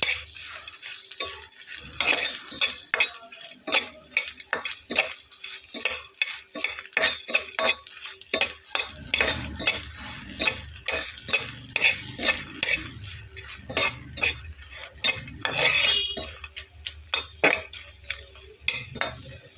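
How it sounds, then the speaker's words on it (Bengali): Dried red chillies fry in a pan with a bright crackling sizzle, and a utensil scrapes and taps against the pan in an uneven rhythm, close and fairly loud with no talking. "এখানে কিছু শুকনো মরিচ নিয়ে নিলাম। এটাকে আস্তে আস্তে করে"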